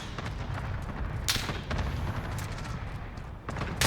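An enemy precision airstrike in Modern Warfare hardcore multiplayer lands as a steady rumble of heavy, booming impacts, with sharper blasts around the middle and end, loud and continuous.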